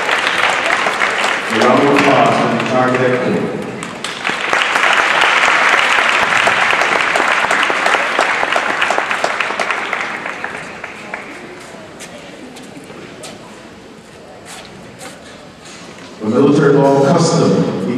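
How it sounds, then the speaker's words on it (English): Audience applause for a high school JROTC cadet corps fills most of the stretch, loud and sustained, then fades and swells again near the end, with a voice speaking over it at times. "a round of applause for the entire Cadet Corps."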